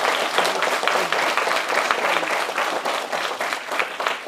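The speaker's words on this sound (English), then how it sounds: "Should we give her a big round of applause?" Sustained audience applause at a BookTastic Bedford children's book event thanking author Vashti Hardy, dense steady clapping from a crowd lasting the full stretch with no talking over it.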